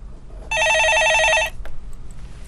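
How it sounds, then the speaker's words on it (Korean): A telephone rings in a Korean stock-market call-in broadcast studio with one loud, close, trilling electronic burst of about a second, then quiet room tone. "예, 전화 받아보겠습니다."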